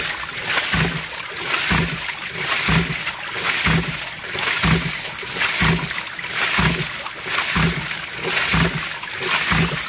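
Water gushes and splashes continuously from a 4-inch PVC hydram pump, with a regular pulsing beat about every second beneath the steady rush of the flow.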